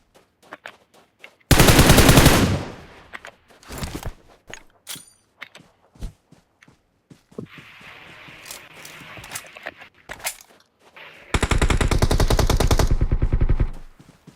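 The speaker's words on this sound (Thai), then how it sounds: "ฝั่งนู้นยิงอีกเฉยเลย" Gunfire in the PUBG battle royale game comes in loud bursts of rapid automatic fire, separated by scattered single shots, footstep-like clicks and quieter stretches, with two long sustained volleys standing out.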